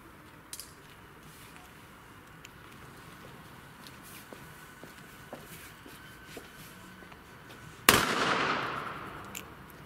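B-Böller firecracker going off outdoors in rainy conditions, one sharp loud bang late in the stretch with a decaying crackling tail, preceded by faint scattered clicks and footstep-like taps.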